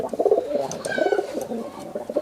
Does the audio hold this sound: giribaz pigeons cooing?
yes